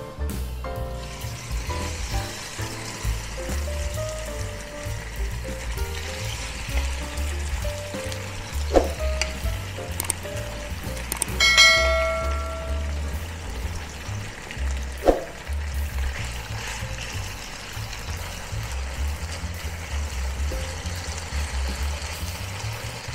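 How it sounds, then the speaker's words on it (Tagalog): Marinated beef stir-frying in hot oil in a pan, a loud continuous sizzle with occasional sharp scrapes and clanks of a utensil as the meat is tossed. "Pag mainit na yung oil natin, pwede na nating ilagay yung ating marinate na beef."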